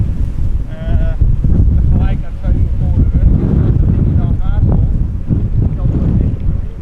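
Strong crosswind buffets a camera microphone at Amsterdam Schiphol Airport during windy arrivals, giving a loud continuous roar with gusty swells that runs the whole time. A voice talks over it throughout.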